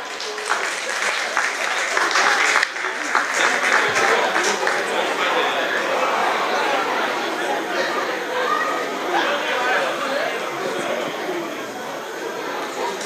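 Sustained applause from a large audience, steady and dense for the whole stretch, with some chatter mixed in.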